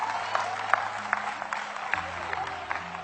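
Scattered applause from a church-style audience at an inspirational sermon, a thin steady patter of claps with a few sharper individual claps standing out over a low background hum.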